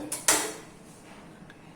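A metal pressure cooker lid clanks shut with a sharp clatter, followed by a faint scrape and another small metallic knock.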